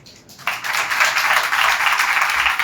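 Church congregation bursts into applause during a sermon, a steady wash of clapping hands that rises suddenly and continues evenly, fairly close.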